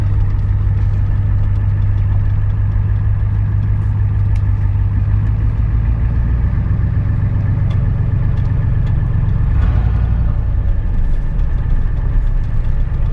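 A truck engine idles loudly and roughly with a deep, rumbling, uneven note from a cut-off exhaust, steady throughout, with some wind noise.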